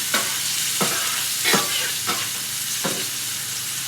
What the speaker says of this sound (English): We're going to caramelize this onion